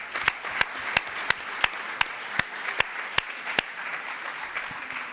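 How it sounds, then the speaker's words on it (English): An audience at an international scientific meeting in Florence applauds, with soft, diffuse clapping from a crowd punctuated by a regular series of sharp, louder claps from one nearby person, steady for about five seconds. "applause to Frank as the chairman of the committee"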